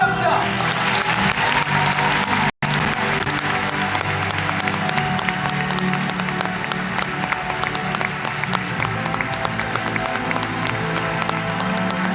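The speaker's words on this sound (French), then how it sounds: "je veux un tonnerre d'applaudissements pour Valérie Albarcia." A live audience applauds a speaker at an evening business event, a dense sustained roar of clapping that stays loud and steady throughout, with one brief dropout.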